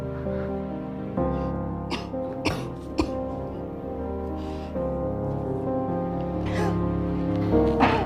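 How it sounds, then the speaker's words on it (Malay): A woman coughs in short, harsh bursts over a steady background hum, with a pause and further coughing toward the end. "Makin teruk batuk Mak ni."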